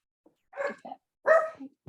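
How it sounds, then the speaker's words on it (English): A dog barks a few times in the background, short muffled woofs with gaps between them, alone without talk. "my dog was barking in the background."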